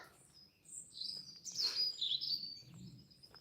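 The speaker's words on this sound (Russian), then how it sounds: "Но птицы, вы их слышите." Birds chirp in a quiet forest with a few bright, high tweets, one fuller burst in the middle and fainter calls around it.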